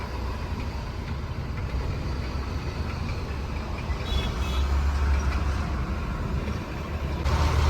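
Dense road traffic in a Kolkata jam, a continuous low rumble of engines and passing heavy vehicles that swells louder in the second half, with faint horn-like tones, no voices.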